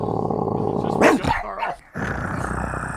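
A voice imitates a dog, giving a couple of growly bark-like yelps over a steady room hum, followed by a short pause.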